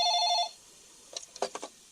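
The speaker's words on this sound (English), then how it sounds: "Joanna answers the phone." A telephone in a doctor's office gives one short electronic ring, clear and close, then stops and a few faint knocks and shuffles follow in otherwise quiet surroundings.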